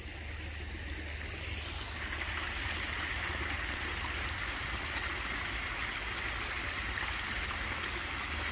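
A stream of water flows steadily in a quiet outdoor spot, a constant broad rushing and trickling wash that stays even and moderately close throughout, with no voices.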